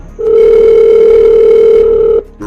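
Steady telephone dial tone on a landline handset as a call to the police begins, a single loud continuous hum lasting about two seconds before cutting off abruptly, with no talk over it.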